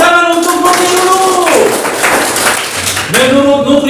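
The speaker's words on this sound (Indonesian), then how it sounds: "Tepuk tangan untuk Nukri dulu." Schoolchildren in a classroom clap for a classmate during a physical education lesson. The dense, even clapping fills the middle of the moment, with an adult voice speaking just before and after.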